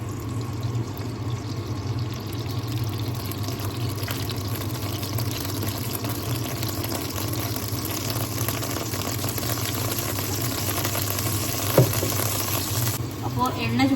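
Mustard oil poured into a pan on the stove and heating for potato curry, a steady soft sizzle and liquid hiss throughout with a faint clink near the end, close and even, with a voice talking over it.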